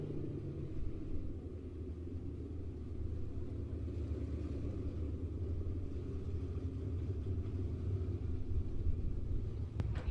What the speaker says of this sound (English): Pete Richardson, Dean Bell, Dustin Kenyon making their way out onto the track right now.